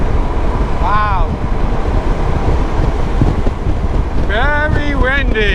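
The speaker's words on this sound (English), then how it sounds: "Very windy." Strong wind roars steadily against the microphone outdoors, a loud, constant rumbling buffet, while a voice speaks briefly at the start and again near the end.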